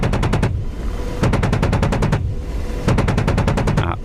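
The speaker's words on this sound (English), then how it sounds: "10 round bursts, absolutely just laying waste to this compound." Three long bursts of rapid automatic cannon fire from an Apache helicopter gun in the DCS combat flight simulator, each burst a steady rattling stream of shots, loud and close, with short gaps between.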